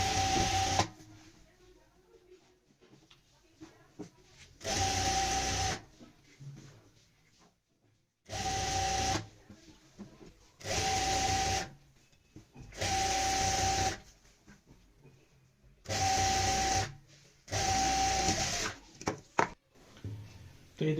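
A sewing machine stitches lining to lehenga fabric in seven loud, steady bursts of a couple of seconds each, separated by short quiet pauses.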